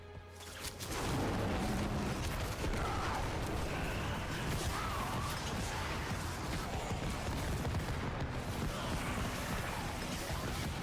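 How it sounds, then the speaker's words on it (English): Random explosions from the chaotic power in Diablo 4, a dense barrage of booms and crashes that roars continuously after a brief quiet start, layered with rumbling blasts and game effects. "these random explosions here right now, that's the chaotic power, right? That causes random explosions around me."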